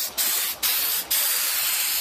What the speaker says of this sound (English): Pretty sure everybody knows how to spray paint, but it's part of the project.